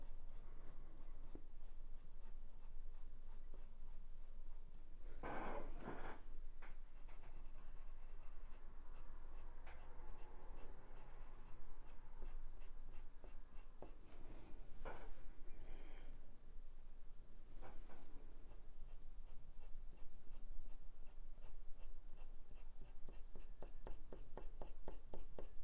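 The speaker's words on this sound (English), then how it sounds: "you can just sort of just gently take your pencil across them" Pencil scratching steadily across paper while drawing a parrot, a continuous close dry rasp with to-and-fro strokes and a few firmer scrapes, alone without talk.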